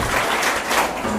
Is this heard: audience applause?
yes